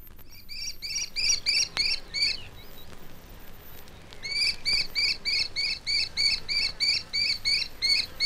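A kestrel near its breeding place gives a high, rapid chattering call in two repeated series of sharp notes, clear and fairly close over quiet woodland background.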